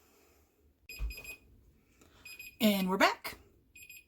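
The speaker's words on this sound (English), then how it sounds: "The beeper's going." A kitchen timer on the stove goes off while elderberry syrup simmers with honey, giving short bursts of bright beeping. Someone speaks briefly over it, and a louder voice-like sweep rises in the middle.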